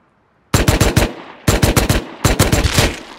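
Video game gunfire in three rapid automatic bursts, each several quick loud shots, separated by short pauses after a silent start.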